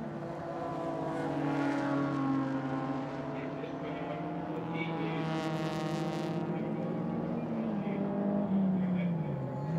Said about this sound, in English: The Maserati is fighting back again, and at the end of the back straight of the Hungaroring, he finds the pace for the lead again.